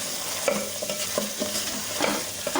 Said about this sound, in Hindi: स्पाइसेस डाल के फिर इसको हम भून लेंगे आलू को।